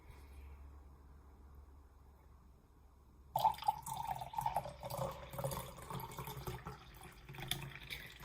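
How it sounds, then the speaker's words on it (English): Herbal tea pours from a kettle into a container after a few quiet seconds, a steady close liquid stream with light splashing that continues to the end, with no talk. "I'm gonna pour some more tea."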